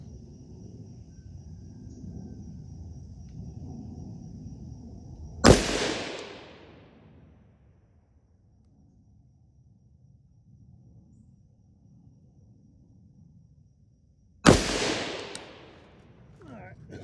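Two sharp AR15 rifle shots fired outdoors at a target 200 yards away, loud cracks about nine seconds apart with brief echoing tails, a low hum and faint background between them.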